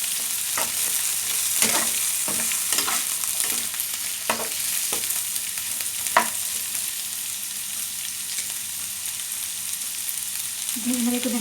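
Carrots stir-fried for pancit bihon, a steady bright sizzle of hot oil with irregular scraping strokes of a utensil against the wok, close and without talk.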